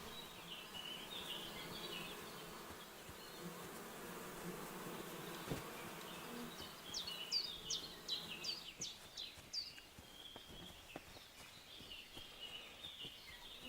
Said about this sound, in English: Is that some bees I hear?